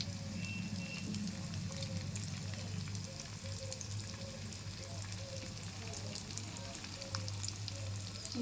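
Frying in a wok produces a dense, steady crackling sizzle over a low background hum, continuous and fairly even throughout, with no talking.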